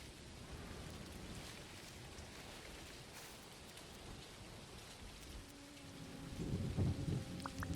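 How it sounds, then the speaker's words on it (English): Steady rain pours down in the farming and fishing game Dinkum, a dense hiss with low thunder rumbles underneath, and a few faint tonal game sounds rise near the end. "With the rain, I can't really see much of anything."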